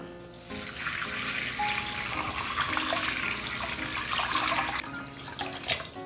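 Cold tap water runs into a pot for seaweed soup, a continuous splashing, hissing stream that holds steady and then eases off near the end, with faint kitchen clatter underneath.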